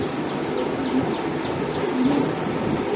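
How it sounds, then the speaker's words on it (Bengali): Shocking-breed pigeons at a pigeon exhibition coo in a steady, repeated rhythm against a dense crowd murmur, with several soft calls overlapping through the whole stretch. "এই যে কবুতরগুলা শোকিং মাদি ওই জোড়াটা জোড়া"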